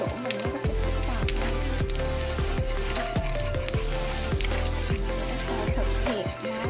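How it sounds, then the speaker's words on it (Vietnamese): Chopsticks dipped into hot cooking oil heated for frying chicken, giving a loud continuous sizzle and crackle of bubbling oil with a steady low hum beneath. "Có dầu nóng thì mình thấy cái đũa mình nó sẽ sủi bọt."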